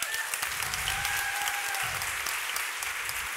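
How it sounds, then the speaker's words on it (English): Audience applause at a panel event celebrating women in the Volvo Ocean Race: a dense, steady wash of many hands clapping in a hall, loud and sustained throughout with no talk. "Please can you give a huge round of applause for Elise Beavis."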